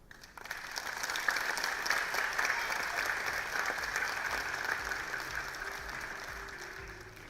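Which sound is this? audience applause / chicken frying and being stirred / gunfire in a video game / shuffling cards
audience applause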